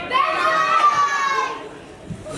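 Crowd of children shouting a brand name together at a school annual day celebration, one loud sustained group yell that fades out after about a second and a half.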